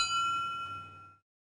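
A small tank engine's bell in a children's Thomas the Tank Engine video game gives a single bright metallic ding that rings steadily for about a second, then cuts off into silence.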